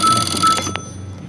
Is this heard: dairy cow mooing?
no